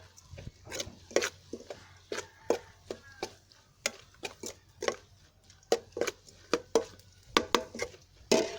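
Fish meat stirred in a pan, a utensil scraping and tapping the pan in quick, uneven strokes, about twenty crisp close clicks over a low steady hum.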